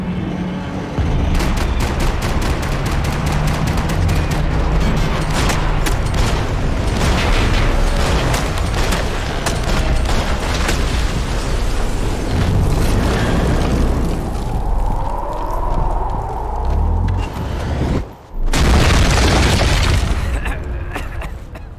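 Dense gunfire and booming explosions from Max Payne 3 roar loud and close almost continuously, with rapid bursts of shots stacking over heavy blasts and a brief drop near the end before the barrage resumes.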